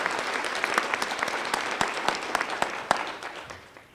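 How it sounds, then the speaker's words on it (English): Audience applause at a fair and affordable housing summit, a steady wash of many hands clapping for the sponsors at moderate distance, holding for a few seconds before starting to taper off. "let's give all of our sponsors a round of applause"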